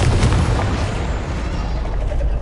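A Confringo explosive spell cast in a video game goes off as one loud, full boom, and its broad rumble rolls on steadily for a couple of seconds.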